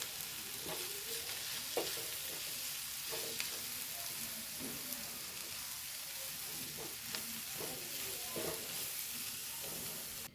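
Potato and egg mixture frying in a pan and being stirred with a spatula, a steady close sizzle broken by soft scraping strokes at irregular intervals throughout.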